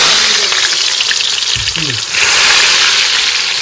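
Onions hit hot oil with a loud, steady sizzle and crackle, in a home kitchen where fish has just been fried; the frying hiss runs continuously, briefly dipping and then swelling again as the onions are stirred.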